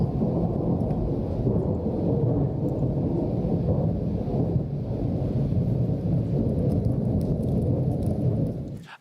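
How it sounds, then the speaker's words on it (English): Thunder snow recorded in Edinburgh rolls as a long, deep, continuous rumble with steady power and no voices over it, cutting off abruptly at the end. "this is thunder snow as heard from Edinburgh."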